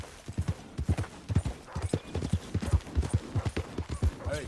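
Horse galloping in Red Dead Redemption 2, a close, rapid, rhythmic drumming of hooves on dirt, loud and continuous, with a brief voice calling out.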